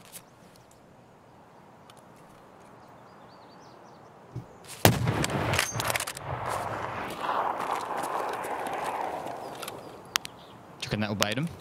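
Gunfire in the video game Escape from Tarkov during a woods raid: a sharp report near 4.8 seconds opens a loud, dense burst of shooting and crackling, trailing into further shots toward the end, with players talking over it.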